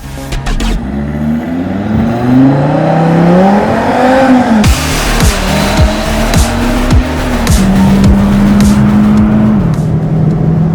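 A Cupra Formentor VZ5's 390-horsepower five-cylinder engine revs up loudly, then launches hard under launch control with rising engine pitch through quick gear changes, close and powerful.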